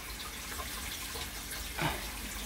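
Water draining from a kitchen sink after the drain plug is popped, a steady close gurgling wash with a brief louder gush near the end.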